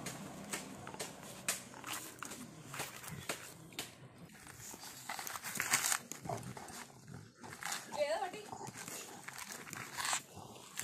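A dog tears the husk off a coconut outdoors, with irregular ripping, gnawing and scuffling bursts, some louder rustles and fibrous tearing, and footsteps moving around nearby.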